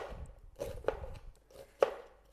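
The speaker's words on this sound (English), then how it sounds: "So now onion, you're going to cut it in quarters and then" A knife cuts through a brown onion on a board, giving a few crisp, separate chops, close and fairly quiet, with brief pauses between strokes.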